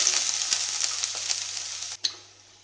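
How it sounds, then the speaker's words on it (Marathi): Onion fries in a spoonful of oil in a pan on a gas stove, giving a loud, steady close sizzle with faint stirring ticks that ends in a sharp clack before fading. "हांवें कायल गॅसार दवरल्या, तातूंत 1 चमचो भर तेल घातला आणि आता आमी तातूंत कांदो घालुया"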